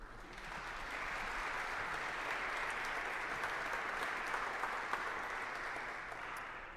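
An indoor audience at a Stravinsky lecture breaks into steady, sustained clapping that swells and holds for several seconds before tapering off, with no voices over it.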